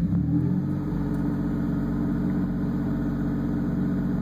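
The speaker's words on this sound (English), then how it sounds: "I'm going to give it a little bit of gas here" A Toyota engine is revved briefly with a little gas, then settles into a steady, close, loud idle that drones on alone.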